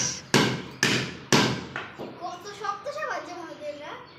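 Three sharp hammer blows land in quick succession on a large bar of soap, breaking it, then a person starts talking as the striking stops.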